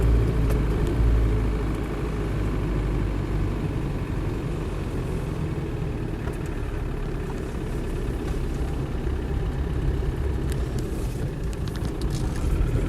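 A Land Rover Defender 110 CSW with the 200TDi diesel engine and 211,000 miles runs at a steady idle, a close, loud, unbroken low rumble that holds even throughout with no talking over it.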